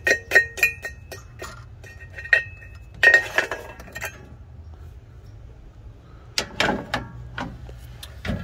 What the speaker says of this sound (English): Take the air cleaner off.